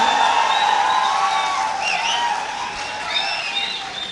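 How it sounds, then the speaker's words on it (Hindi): Steady applause from the audience at a kavi sammelan poetry gathering, sustained clapping with a few whoops and whistles rising over the crowd. "मैं चाहता हूँ कि एक बार आशीर्वाद के लिए तालियां बजाइए।"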